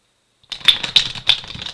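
Silence, then a quick series of crisp, papery riffling clicks as a deck of tarot cards is shuffled close by, in three or four rapid bursts.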